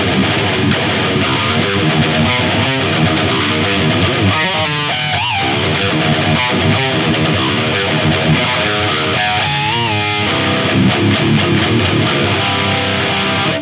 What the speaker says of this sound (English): I think we're just gonna go with a tube screamer here.